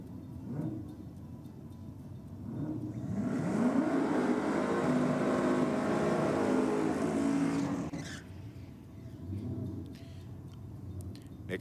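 A nitro hot rod drag car makes a clean pass down the strip at about 165 mph, its engine roaring up loud for several seconds and then fading away, with quieter background noise before and after.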